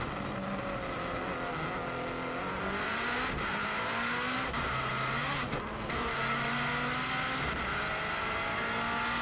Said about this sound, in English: So here we go, we're now accelerating for the flying start, and we're just about to go across the start line.